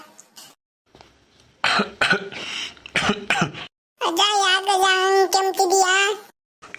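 An elderly woman in a Kannada cartoon, voiced by a performer imitating the sound, gives a cluster of harsh, close coughs, then a long strained voiced groan.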